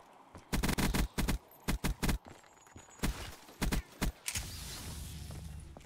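Death Machine minigun in Call of Duty zombies fires in several sharp bursts of rapid shots separated by short gaps, loud and close, ending in a steady mechanical whir.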